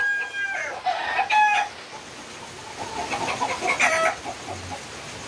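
A Boston roundhead game rooster of the LDT line crows close by, then breaks into a few throaty clucks, clear against a faint outdoor background.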